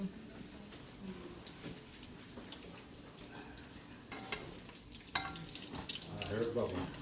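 Eggplant rollatini bubbling and sizzling in a pan, a steady close simmer with soft popping and a few louder crackles, continuous throughout.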